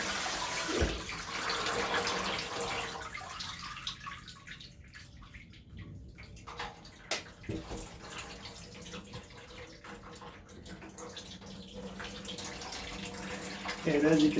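Soaked corn kernels are rubbed and squeezed by hand in a strainer under running water to strip their hulls, a steady splashing and sloshing with brief wet squelches throughout.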